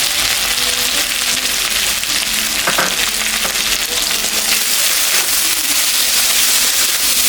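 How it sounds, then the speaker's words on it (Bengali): Raw banana and fish curry fries in a pan with a loud, steady sizzle that crackles continuously and never pauses. "তরকারিটা ভাজা ভাজা হয়ে গেছে"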